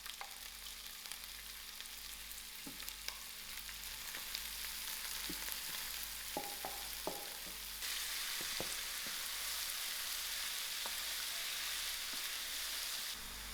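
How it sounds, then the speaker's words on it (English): Soya mince braising in a pan with onions, ginger and garlic, giving a steady broadband sizzle throughout, with a few light scraping stirs of a utensil midway and the frying growing louder in the second half. "Therefore we are braising it with onions."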